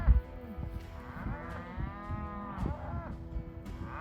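Cattle moo in a field in open ranch country, several long drawn-out lowing calls from a herd, some overlapping, heard from a short distance over faint outdoor background noise.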